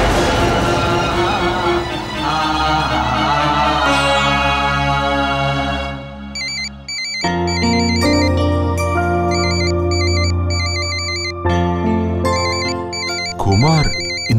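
A phone ringing with an incoming call in a Tamil TV serial scene: a loud, sustained melodic ringtone plays close up, moving from a full chord-like phrase into repeating high chiming patterns, without speech.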